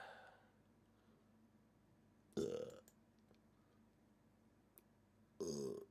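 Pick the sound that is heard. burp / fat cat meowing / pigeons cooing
burp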